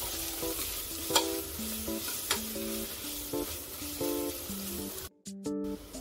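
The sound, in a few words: sautéing ground spices in a pan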